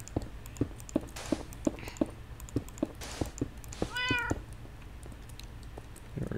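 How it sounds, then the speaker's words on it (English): A tame cat meows once in a video game, a single rising-falling meow partway through, heard over a steady series of sharp clicks and taps from gameplay. "I think he's just a plain old tame cat."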